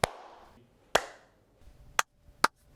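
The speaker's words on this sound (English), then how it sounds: "Just give me a clap right in front of your face." Four sharp, separate hand claps spaced about a second apart, each a crisp close slap with a short room echo and quiet gaps in between.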